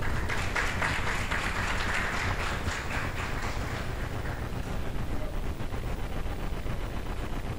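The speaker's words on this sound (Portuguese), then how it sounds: "a nossa homenageada, que recebe os aplausos de todos, Yara Ocubo." Audience applause for an honoree at a formal city council ceremony, a steady wash of clapping that fills the whole stretch and sounds somewhat distant and muffled, blurred by room noise.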